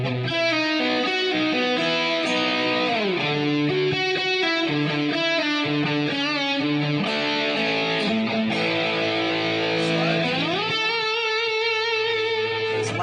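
A slow guitar riff played with slide and vibrato, the sustained distorted notes bending and wavering continuously, loud and alone without talk.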